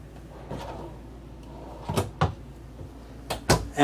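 Drawers under the bathroom sink of a Renegade Super C RV sliding and shutting, a few separate close clunks and knocks spaced through otherwise quiet room tone.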